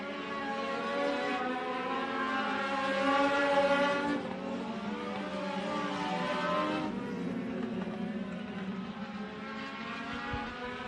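Legends race cars battle at Benton County Speedway, several engines droning and shifting pitch together at a distance as they lap the oval, steady and fairly faint.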